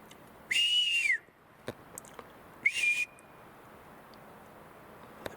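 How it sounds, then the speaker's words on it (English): Outdoor forest setting with two clear high whistled calls of a hawk, the first longer with a falling end, the second shorter, standing alone against a faint quiet background. "Hearing like a hawk or something."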